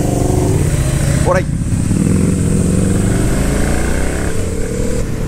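A Ducati Panigale V4 sport motorcycle's aftermarket exhaust roars loudly and continuously, close by, with a steady throbbing engine tone; a voice calls out briefly over it.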